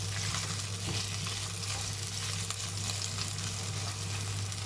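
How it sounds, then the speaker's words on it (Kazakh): Chopped meat fries in vegetable oil for a funchoza dish, a steady, loud, close sizzle that continues unbroken with no voices. "біздің тураған етті шыжғырып қуырып аламыз"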